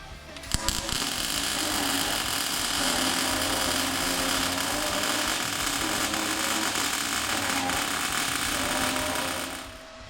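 MIG welding open corner welds on a Ford F150 truck cage with 030 wire gives a loud, continuous crackling buzz that starts abruptly and holds steady for about nine seconds before stopping.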